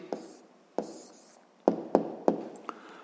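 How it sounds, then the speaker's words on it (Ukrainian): A pen writing out the answer to a sixth-grade maths exercise: about six short, distinct tapping strokes spaced irregularly, close and fairly quiet, with no one speaking. "записуємо відповідь"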